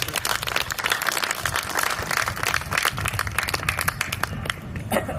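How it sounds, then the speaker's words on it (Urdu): An office audience claps for their team, a sustained patter of many hands that rises and falls in waves across the whole stretch. "اپنی ٹیم کے لیے تالیاں۔"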